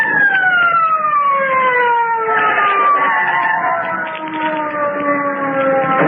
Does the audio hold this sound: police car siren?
yes